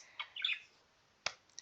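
A pet bird gives a few short chirps and squawks close by, in sparse bursts with quiet gaps between them.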